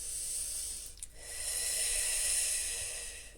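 Slow, deep breathing during a guided meditation: a long airy breath, a brief pause, then another long drawn-out breath, close to the microphone with no speech.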